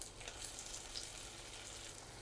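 Ginger-garlic paste frying with softened onions in a pan, a steady, even hiss and sizzle held at close range without pause.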